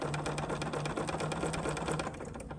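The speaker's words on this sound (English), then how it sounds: "let's just go ahead and give this a stitch" A sewing machine runs a straight stitch across the corner of lined napkin fabric with a rapid, even mechanical whir and needle ticking, close and alone for about two seconds before stopping.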